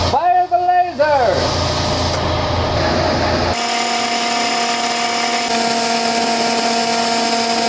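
A laser cutter cuts and etches parts for a laptop stand, with its HEPA filter and air compressor running. A loud, steady mechanical hum carries sustained tones, with a shifting whine early on that then settles into an even drone.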